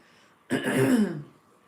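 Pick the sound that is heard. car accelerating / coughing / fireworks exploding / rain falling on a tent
coughing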